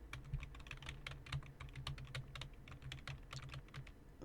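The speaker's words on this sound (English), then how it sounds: "I was typing with my keyboard with this microphone." Fingers type on a computer keyboard close to a microphone, a quick irregular patter of soft clicks and taps running on without pause, quiet and unaccompanied by talk.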